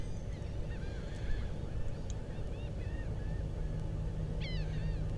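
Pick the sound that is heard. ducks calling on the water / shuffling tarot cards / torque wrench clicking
ducks calling on the water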